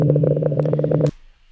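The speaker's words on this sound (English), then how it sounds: "I just have some weird sound loops going," Odd looped audio playing in Ableton, a buzzy droning tone with rapid rhythmic flutter that stops suddenly, leaving a faint fading tail.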